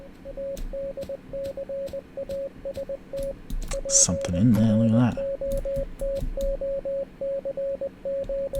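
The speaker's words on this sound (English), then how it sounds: "Something flashing red. Morse code. Is that Morse code?" A Morse code signal beeps in the ROBOLAND video game as a steady train of short and long tones, interrupted midway by a brief burst of other game noise. A voice talks over it.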